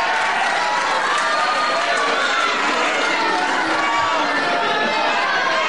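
A boxing crowd at the end of a Steve Gray versus Bobby Barnes bout keeps up a loud, steady wash of cheering, clapping and shouting, thick and continuous throughout with no clear pauses.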